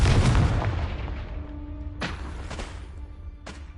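In Hogwarts Legacy, a Confringo spell goes off with a heavy booming explosion that decays over a second, then sharp crackling impacts follow at about two, two and a half, and three and a half seconds.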